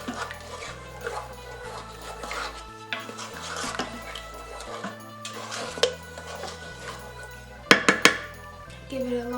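Utensil stirring meatball sauce in an Instant Pot, with irregular clinks and scrapes against the metal pot and a few sharper knocks near the end, under a low steady background hum.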